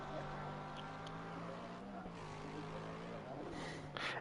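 A Lamborghini V10 engine in the racing game Assetto Corsa Competizione, during a 24-hour race, drones as a steady, fairly quiet note that holds a nearly constant pitch.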